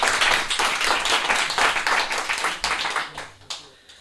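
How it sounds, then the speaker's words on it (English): Audience applause for stage performers at a theatre scene reading, dense steady clapping that thins and fades toward the end. "Round of applause, please, for them."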